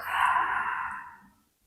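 One long, soft exhale through the mouth during a flowing yoga spine movement, close and breathy, fading out after about a second and a half.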